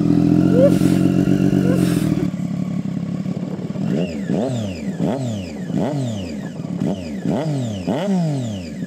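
A 2016 Triumph Daytona 675 R three-cylinder motorcycle warming up, starting with a loud steady idle and then breaking into a string of sharp rising-and-falling revs repeated roughly every second, close to the listener.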